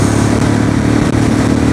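Royal Enfield Classic 350 BS6 motorcycle at speed, its single-cylinder engine droning loud and steady with heavy wind rush, no voices.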